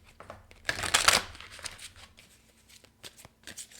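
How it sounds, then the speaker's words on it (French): Playing cards are shuffled in a quick riffle, a dense papery burst lasting about half a second before a card is drawn, followed by faint soft card handling. "Je vais aller chercher maintenant une carte de temps."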